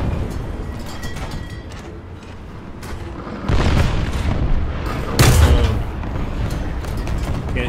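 Heavy tank cannon shots from a Panzer IV Ausf. J medium tank in War Thunder: two loud booms a couple of seconds apart over a rumbling engine and battlefield din.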